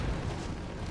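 A grenade blast in Halo: The Master Chief Collection, heard as a dense, loud burst of rushing noise that fills the short moment without a break.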